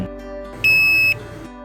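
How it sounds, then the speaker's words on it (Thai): A single steady electronic beep lasting about half a second, loud and close, over a low mechanical hum, from a wheelchair lift in a large sliding-door vehicle signaling the stowing mechanism has finished. "เมื่อระบบกลไกเก็บวิวแชร์ทำงานเสร็จสมบูรณ์ จะมีเสียงสัญญาณเตือน"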